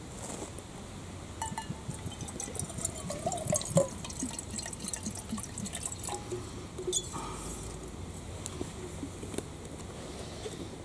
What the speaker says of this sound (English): Just rinse this out a little bit.